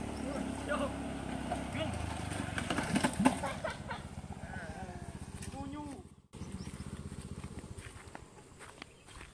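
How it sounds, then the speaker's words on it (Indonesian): A Honda 300cc motorcycle engine, a modified Pitung, runs at a low steady idle on a dirt road. It is heard close, under people talking, and the rumble eases off partway through. "yang penting motor udah nyala, Bos"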